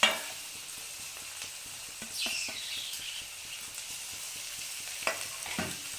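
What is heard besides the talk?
capsicum and cabbage stir-frying in a pan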